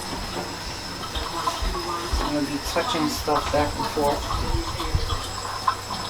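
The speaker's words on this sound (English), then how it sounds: "I'm going to keep the water running" A kitchen tap runs on low as a steady soft hiss beneath a person talking close by, with light clattering of handled ingredients.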